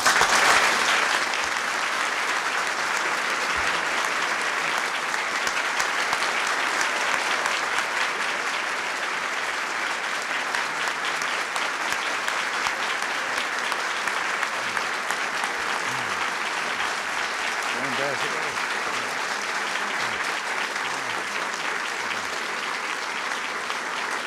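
Sustained audience applause following the oath at the 1983 swearing-in of Helene von Damm with President Reagan, a dense steady clapping that fills the room from start to finish without speech.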